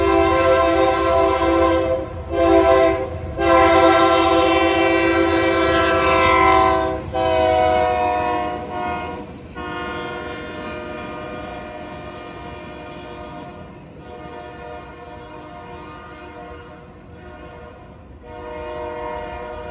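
Norfolk Southern northbound freight train sounding a loud K3LA air horn in long chords with short gaps, then rumbling past with steady rail noise and a final horn burst near the end.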